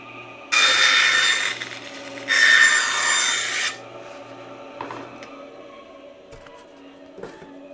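Wood is pushed through a 7-degree bevel jig against a saw blade in a workshop, giving two loud, close rasping cuts of about a second each, then quieter handling clatter.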